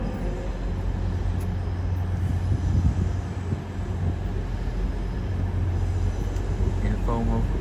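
Lumo class 803 train from Edinburgh arriving at a London terminus, a steady low rumble and rolling rail noise under station ambience, with a brief high squeal near the end.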